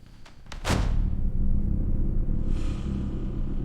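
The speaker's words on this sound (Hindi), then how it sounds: "दरवाजा बंद हुआ" A door swings shut in a horror story: a sharp thud lands just under a second in, then a heavy low rumble rolls on and holds steady to the end, with no voices.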